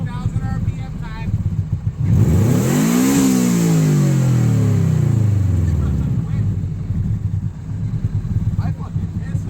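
A Toyota Corolla with a JDM six-speed swap revs hard toward 8,000 RPM, its engine note rising loudly, peaking and falling back, with voices talking around it.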